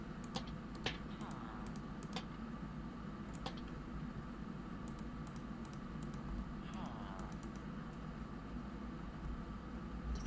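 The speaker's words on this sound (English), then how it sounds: "You can hear me clicking trying to see where we can put things." Sharp computer mouse and key clicks come in scattered bursts while someone plays Minecraft, faint and close over a constant low background hum.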